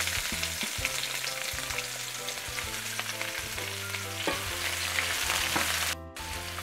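Sliced onion frying in leftover oil with whole spices in a pan, giving a steady, close sizzle with scattered pops and a faint stirring scrape, then a brief dip near the end.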